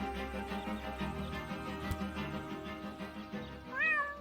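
A single cat meow in the video game Deponia, rising then falling near the end of a stretch of steady, tonal game music and ambience.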